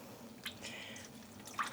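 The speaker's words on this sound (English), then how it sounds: "I'm going to just squeeze out some of the water." Faint drips and a soft squish as water is squeezed out of home-dyed yarn skeins, a few small isolated drops over quiet background.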